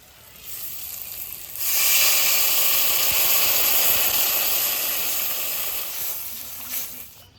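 Water poured into a hot pan of fried tamarind for a fish curry gives a loud, close, steady hiss and sizzle that swells after a soft start, holds for several seconds, then eases off, with no voices.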